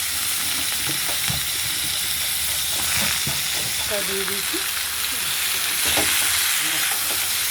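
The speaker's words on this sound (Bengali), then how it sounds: "এই বেগুনটা একটু ভাজা করে নিচ্ছি।" Eggplant frying in a pan with oil tempered with black cumin seeds gives a steady, close sizzle throughout, while a voice speaks briefly over it.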